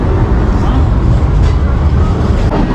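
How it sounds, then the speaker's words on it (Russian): A crowded tram rolls in on a street in Istanbul with a loud, dense rumble and rattle close by, steady throughout the short moment. "Подъехал второй трамвай,"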